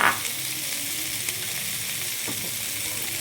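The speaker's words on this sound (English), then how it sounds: "after that, I'm gonna put the mushroom enoki" Enoki mushrooms fry with golden-brown onions in a pan for spicy Chinese-style noodles, giving a loud, even, continuous sizzle close by with no one speaking.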